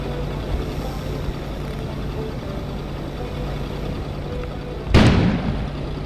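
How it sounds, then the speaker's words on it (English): A sudden loud explosion bursts outside in the video game Kona after a stretch of low ambient rumble, its sharp broadband blast decaying into a rumbling tail. "An explosion suddenly occurred outside."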